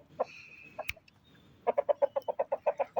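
A Shalpan breed rooster clucks nearby, a couple of isolated calls, then a rapid run of about a dozen rhythmic clucks, fairly close and clear against a quiet yard.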